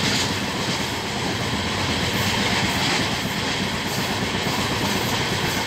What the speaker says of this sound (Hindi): देखिए मालगाड़ी बगल में रुकी हुई है, ट्रेन चल रही है।